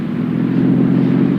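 A car engine running knock-free on Atlantic Imperial gasoline in a 1959 radio commercial, a brief, steady, close engine drone with an even low hum and no breaks.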